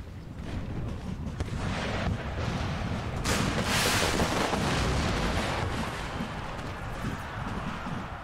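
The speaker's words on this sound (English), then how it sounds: "Wow, heavy artillery fire." Heavy artillery fire in an American Civil War video game, a continuous dense rumble of distant cannon booms and gunfire that swells in the middle and stays steady throughout.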